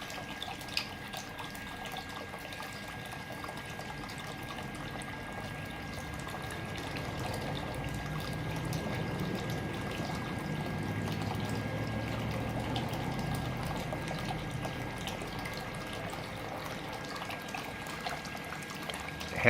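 Hot water from the outlet of an Eberspacher heater fitted to an LMTV build runs steadily in a soft, continuous trickle and splash that swells slightly midway, close by and without talk.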